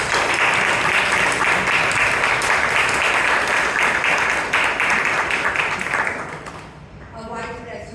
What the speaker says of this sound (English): a huge round of applause to them and let's welcome them